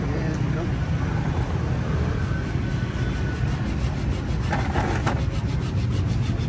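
A hand saw cutting wood makes a steady, continuous rasping under loud broadband noise, close and sustained throughout, with some rhythmic strokes toward the end.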